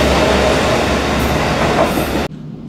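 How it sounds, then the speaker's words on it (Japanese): Loud, close noise of a red Kyushu Odan limited express train on the Hohi Main Line rushing past for about two seconds, a dense broadband roar that suddenly cuts off, leaving a quieter hum. "今すれ違った赤色の列車は豊肥本線の中でも貴重な特急列車です。"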